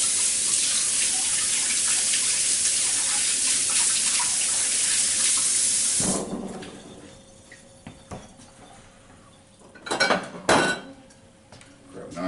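A kitchen blender jar is rinsed under a running tap, a steady rush of water that stops abruptly, followed by a few clinks and knocks as it is handled.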